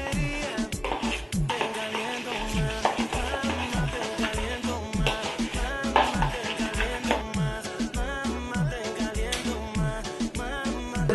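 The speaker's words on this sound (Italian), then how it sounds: "Ecco qua ragazzi, un bel cucchiaio a mescolare." A spoon stirring a homemade hair oil mixture of linseed oil and melting cocoa butter in a pot, a steady scraping and clinking that runs continuously, with a busy hissing and rattling bed underneath, no voices.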